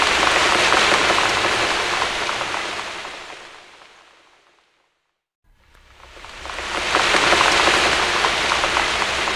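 Rain falling steadily on a rainy day, a loud dense hiss of drops on surfaces that fades out to silence midway and then swells back up again.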